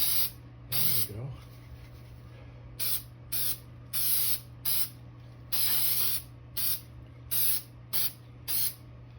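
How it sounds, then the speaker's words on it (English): Dry film graphite lubricant sprays from an aerosol can onto a sand core mold for cast iron, in about a dozen short hissing bursts, close and loud, each lasting under a second, over a steady low hum. "film lube, which puts a little thin layer of graphite in there. And for that, I just spray it in."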